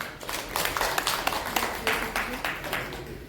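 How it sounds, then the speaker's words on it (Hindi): Audience at a Kabir temple gathering in Dausa clapping for a child, a scattered, fairly loud round of claps with sharp individual hand strikes over a murmur of voices, lasting a few seconds. "जोरदार ताली बजाओ इस बच्चे के नाम"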